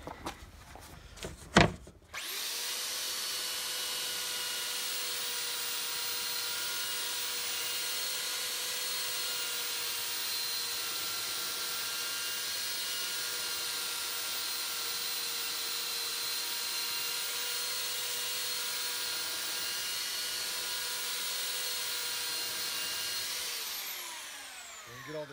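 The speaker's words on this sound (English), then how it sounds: "we've got a belt sander." A belt sander sands a wooden floor being fitted inside a Volkswagen Beetle, a steady loud whirring drone running continuously and close by, starting abruptly after a brief clatter and winding down at the end, with no talking.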